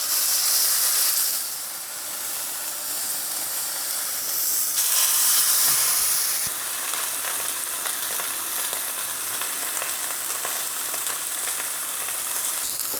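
Pork chops sizzle loudly in a hot pan, a dense steady hiss and crackle that flares briefly louder before settling into continuous frying.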